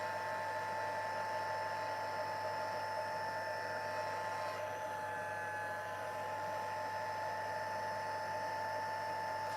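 A craft embossing heat tool runs continuously, a steady high-pitched electric whine with a fan hum, close and unchanging throughout.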